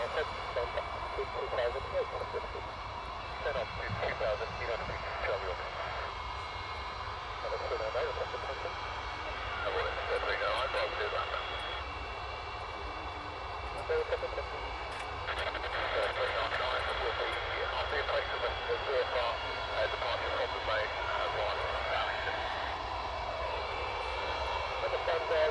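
A military transport aircraft takes off from the runway at RAF Brize Norton with a steady, broad engine roar that holds for the whole stretch. A voice can be heard faintly beneath the noise.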